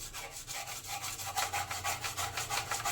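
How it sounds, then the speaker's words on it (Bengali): A hand brush scrubs dirty corners clean in a home, giving quiet rhythmic back-and-forth rasping strokes, close and continuous. "ব্রাশ দিয়ে ভালো করে ঘষে পরিষ্কার করে নেব"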